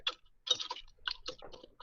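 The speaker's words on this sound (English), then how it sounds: "Can you hear my typewriter?" An old IBM Selectric electric typewriter clacking in short bursts of quick keystrokes separated by brief pauses, close and fairly crisp.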